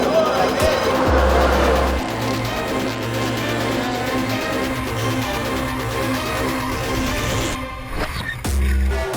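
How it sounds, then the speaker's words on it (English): Drifting cars at a championship event roar and scream through a slide, with loud engine tones rising and falling under excited commentary. "They're drifting and they're off the track in a big way."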